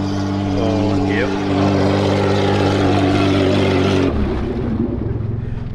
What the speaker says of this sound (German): So kann sich Pajero auch anhören übrigens.